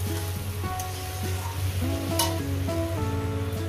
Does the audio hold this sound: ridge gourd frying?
yes